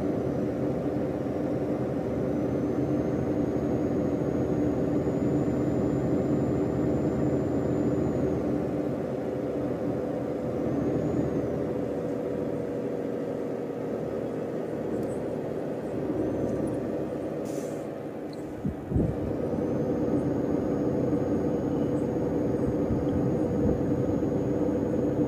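Truck and car engines in a driving simulator game, with the player trying to overtake a truck: a steady, loud engine drone and road rumble that runs unbroken throughout, with a short thump near the end.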